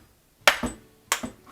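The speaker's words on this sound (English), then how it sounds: "Just tap it in with a hammer." Two sharp metallic taps of a hammer striking a flat-head screwdriver to knock out the plastic plug on a garbage disposer's dishwasher inlet, each hit followed by a short ringing knock, close and isolated.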